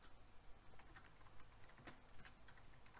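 Keys clatter on a computer keyboard in irregular quick taps while filling in a contacts spreadsheet, faint and close, with one sharper keystroke near the middle and no talking.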